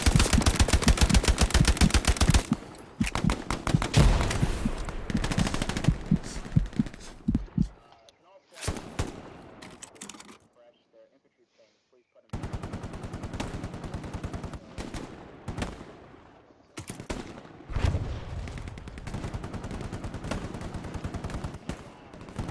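Gunfire from the PS5 war game Hell Let Loose: dense bursts of rifle and automatic fire crackling in loud clusters, broken by a near-silent gap midway, with voices talking over parts of it.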